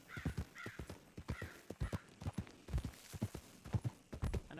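Horse hooves clip-clopping in a video game, a steady close run of hollow alternating hoof knocks with a snorted whinny near the start, no talking.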